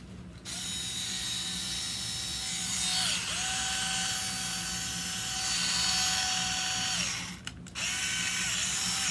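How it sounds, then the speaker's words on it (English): An electric drill runs steadily with a high whine, dipping and recovering in pitch twice as the trigger eases, then stops briefly and restarts near the end; close, fairly loud and alone. "This is my electric drill, by the way."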